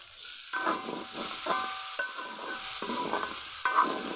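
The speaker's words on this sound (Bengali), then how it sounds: "সবজিগুলো কিছুক্ষণ কষিয়ে নিয়েছি আর হালকা ভাজা ভাজা হয়ে গেছে" Cauliflower, carrot, potato and tomato sautéing with ginger in a pan, with repeated bursts of stirring and scraping over a soft, steady sizzle.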